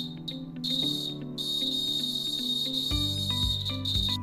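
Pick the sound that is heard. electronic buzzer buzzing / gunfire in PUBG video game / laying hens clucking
electronic buzzer buzzing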